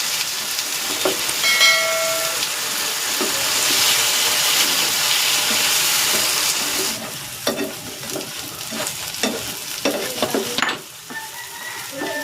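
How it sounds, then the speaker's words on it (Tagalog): Tofu frying in cooking oil, a loud steady sizzle and hiss that softens partway through into crackling pops and stirring clinks. "Iprito ko muna itong tokwa."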